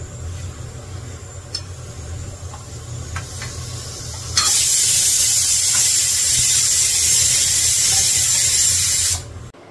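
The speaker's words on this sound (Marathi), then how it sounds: "आता इथे डाळीला फोडणी घालते." Hot tempering is poured into cooked dal. After a quiet stretch of kitchen background, a loud, close, hissing sizzle bursts in and holds steadily for about five seconds before cutting off.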